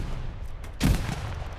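Artillery fire in Hell Let Loose, a single sharp booming blast about halfway through, loud and heavy over a low battlefield rumble.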